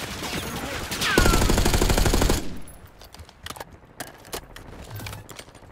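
Gunfire from the video game Black Ops 6: a dense burst of rapid automatic fire lasting about a second, followed by scattered individual shots and clatter at varying distances, loud then trailing off into sparse pops.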